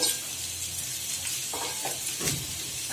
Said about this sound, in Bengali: এখন আমি চিকেন গুঁড়িগুলি দিয়ে দিচ্ছি